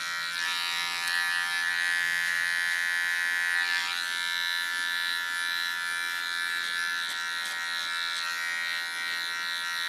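Small electric hair clipper cleaning up the contour of a short haircut, a steady high-pitched buzzing hum close by, running continuously with slight shifts as it moves over the hair.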